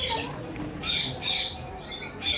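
Birds in a park squawk in several harsh, short bursts spaced about half a second apart, moderately close over a soft outdoor background.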